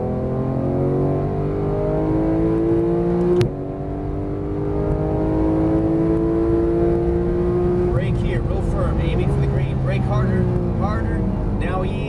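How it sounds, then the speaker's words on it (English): A Porsche GT3 accelerates down a track straightaway in Las Vegas, its engine tone climbing steadily and loud throughout, with a brief dip mid-way and someone talking over it. "Now start squeezing the throttle fast as you want down the straight."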